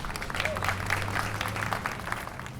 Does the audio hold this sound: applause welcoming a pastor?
yes